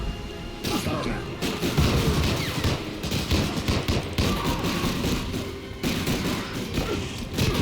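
Rapid bursts of gunfire crackle and crash almost continuously, with booms and impacts layered in a dense, loud, chaotic firefight in the video game Medal of Honor: Breakthrough.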